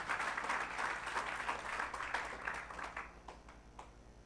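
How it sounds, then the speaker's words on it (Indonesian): A church congregation at a Sunday service claps together, a dense patter of applause that is loud for about three seconds and then thins into scattered, fading claps. "Berikan tepuk tangan."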